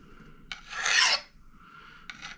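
A metal file rasps varnish off the wooden handle of a Cold Steel Hudson Bay Camp Axe, with one longer, scratchy stroke followed after a pause by a shorter second stroke. Both are close and clear, with no talking.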